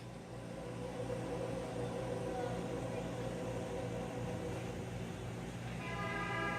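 A freight train with empty coal cars rumbles steadily nearby, and a horn sounds briefly near the end over the continuous rolling noise.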